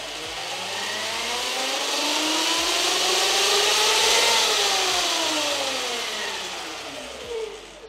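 Electric Motion Escape off-road electric bike motor revving with the rear wheel spinning in the air, a whine rising steadily in pitch to full power then easing back, loud and close.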